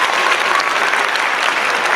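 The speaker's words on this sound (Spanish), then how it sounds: "te mereces un fuerte aplauso" Close, loud audience applause runs steady and dense without a break.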